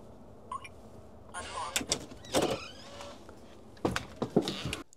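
A DESLOC B200 smart lock on a door locking itself automatically: a short whirring motor run with clicks and mechanical rattles, close and fairly quiet, with a beep at the start.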